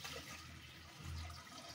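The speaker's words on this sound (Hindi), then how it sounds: "अब इसमें हम डालेंगे पानी" Water pours into a pressure cooker of chickpeas set on a gas stove, a steady close splashing gush that swells slightly toward the end, with no talk over it.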